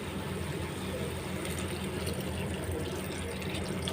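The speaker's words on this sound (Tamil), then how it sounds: "இப்போ நம்ம தேவையான அளவு தண்ணி நம்ம ஆட் பண்ணிக்கலாம்" Water is poured into a pan of pepper chicken curry as it cooks, a steady, even splashing hiss that runs continuously at a moderate level with no talk over it.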